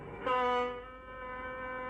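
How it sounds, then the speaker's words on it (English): A passenger train pulls out of a station with a steady, sustained horn-like tone that swells briefly near the start, then holds on at moderate distance. "the passenger train pulls out of the station"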